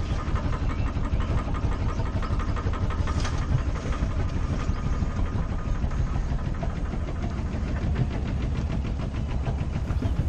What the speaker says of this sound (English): That rattling you hear is actually the boarding ladder and the propane griddle on the back